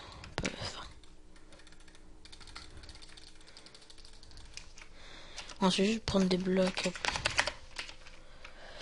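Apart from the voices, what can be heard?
computer keyboard typing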